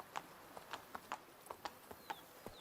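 Roach, a horse in Witcher 3, walks with hollow clip-clopping hooves, about a dozen evenly spaced steps at a steady gait, quiet and moderately close.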